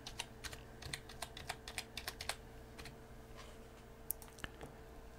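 Keys clatter on a computer keyboard while a username and password are entered, a quick irregular run of light clicks close to the mic over a faint hum, with no talking.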